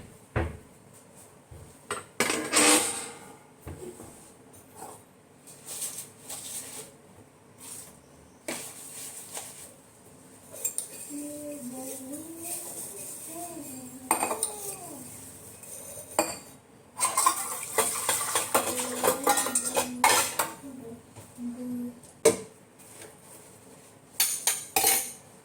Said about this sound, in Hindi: अभी मैं बर्तन धो लेती हूँ क्योंकि बहुत सारे बर्तन हो रहे हैं